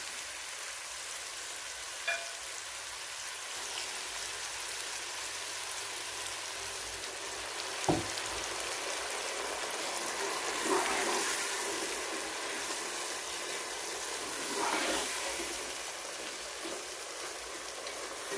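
A chickpea and meat pulao sizzles and hisses faintly in a pot as water is added, with a steady crackling bed and a few sharp clinks and louder bursts spaced through.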